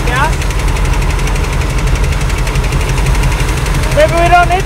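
A Big Block Ford V8 with a leaking carburetor runs steadily at close range, a loud continuous low rumble with a rapid ticking that could be exhaust or lifter noise, with a voice briefly speaking over it near the end.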